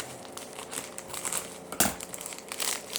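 Double envelopes of a parcel are handled up close, making crinkling and rustling with a sharper crumple partway through, and no talking.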